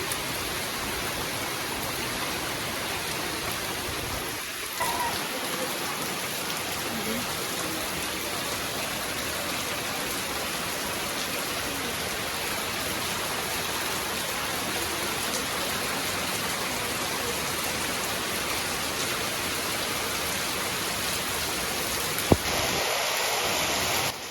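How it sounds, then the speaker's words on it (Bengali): A heavy downpour during a storm pours down in a steady, dense roar of rain that stays loud and unbroken from start to finish, with no voices. "মুষলধারে বৃষ্টি।"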